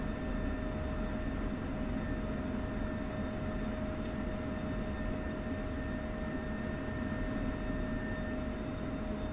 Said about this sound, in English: There go another F-14 just flew by. You hear that big boom?